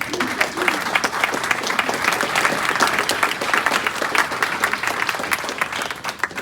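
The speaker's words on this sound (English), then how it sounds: "Big round of applause" An audience applauds the panelists at the close of a forced-labor panel event, a dense, steady round of clapping that holds at even strength throughout, with a faint murmur underneath.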